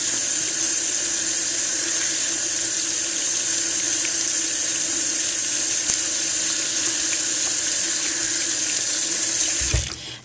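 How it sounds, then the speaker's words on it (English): Steady rush of water from a tap rinsing makeup brushes under a sink faucet, loud and continuous for about ten seconds before cutting off at the end, with no talking. "And then go ahead and rinse."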